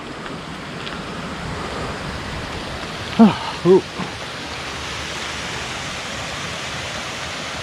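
A small cascading waterfall on a moorland trail feeding toward a reservoir gives a steady broadband rush close to the microphone, with wind noise and a brief exclamation in the middle.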